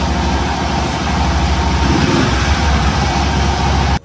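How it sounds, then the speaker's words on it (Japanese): A Honda Little Cub AA01 motorcycle engine idling steadily up close, a constant low rumble that cuts off abruptly at the end. "ちょっとエンジンかけとこう"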